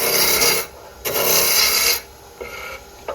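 Wood being turned round on a Nova Galaxy lathe for a spinning top, giving loud rasping cuts in two long passes followed by a quieter scraping pass.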